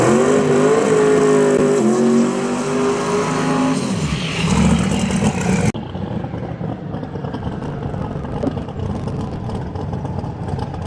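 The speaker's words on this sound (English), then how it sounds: "the Vanesh Nova's back. Twin turbocharged machine." A twin-turbocharged Chevrolet Nova drag race car roars loudly and steadily at a drag strip in Virginia, its engine noise cutting off abruptly partway through to leave a lower background rumble.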